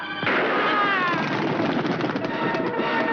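One loud, sharp pistol gunshot cracks out, followed by a long, rumbling, reverberant tail that fades slowly over a few seconds.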